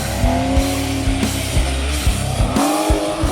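A car's engine drones loudly with rhythmic rises and falls as it drives, the tone climbing and dropping through repeated gear changes.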